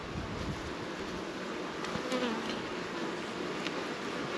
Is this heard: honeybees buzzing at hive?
yes